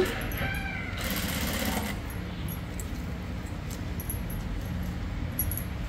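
A sewing machine stitches a border onto a saree in a steady, close, continuous mechanical whir with no breaks.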